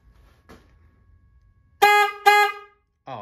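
A Sound Bomb aftermarket horn on a Honda Rebel 1100 motorcycle blasts in two loud, close honks followed by a brief third toot after a quiet start.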